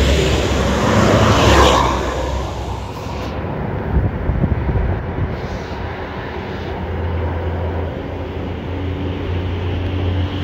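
An ANS intercity bus idles and pulls out of the Palapa restaurant car park, a steady low engine rumble with broadband road and traffic noise throughout, a louder swell near the start.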